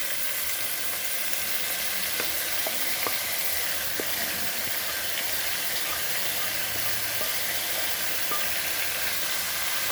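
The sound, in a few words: shrimp frying in a pan for shrimp pasta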